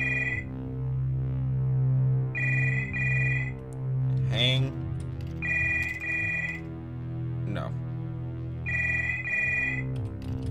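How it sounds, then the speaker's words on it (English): A telephone rings behind a door in a video game, sounding in repeated bursts of a bright electronic double ring over a low steady hum, with pauses between rings. "Behind the door, a phone starts to ring."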